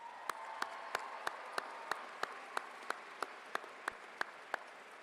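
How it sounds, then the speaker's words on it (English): Slow, evenly spaced single claps, about one every third of a second, ring out over steady crowd hum at a high school graduation ceremony after a musical performance, fairly faint and distant. "Can we give her another round of applause?"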